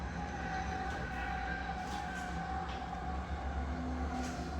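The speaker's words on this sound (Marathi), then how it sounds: "ट्रेन बघा, खिडकीमधनं आमच्या ट्रेन दिसतात." A train passes outside a home window on a suburban line near Uran, Nerul or Belapur, a steady rumbling wheel-and-rail drone with faint hum, continuous and moderately distant throughout, no talking.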